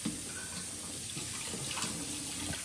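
Water poured from a bottle into a cooking pan in a home kitchen, a soft continuous splashing trickle that stays fairly quiet and even, with no talking over it.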